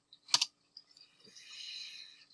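Computer keyboard and mouse clicks while drafting in Rhino: a sharp double click up front, then a few light taps and a soft hiss, all quiet and close.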